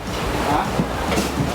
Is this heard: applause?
no